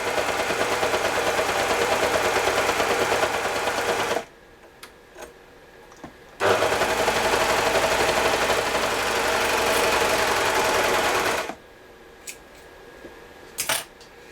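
Sewing machine stitching extra thick sweatshirt fabric, two long loud bursts of rapid needle clatter separated by a quiet pause, ending with a few faint clicks.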